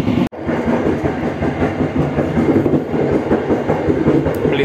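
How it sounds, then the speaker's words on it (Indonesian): The KA Motis train rolls along the rails in Indonesia past Kosambi toward Cikampek, a loud, continuous rumble with rhythmic wheel clatter heard close up and without pause. "selepas Kosambi ini Motisnya masih jalan terus, belum berhenti-berhenti dari tadi"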